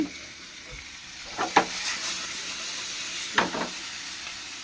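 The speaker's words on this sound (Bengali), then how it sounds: "একটু কড়াইতে তেল জিরে ফোড়ন দিয়ে তেজপাতা ফোড়ন দিয়ে ঢেকে দিচ্ছি" Cumin seeds and bay leaf temper in hot oil in a wok. The sizzle is faint, with two brief spitting bursts over a quiet low hiss.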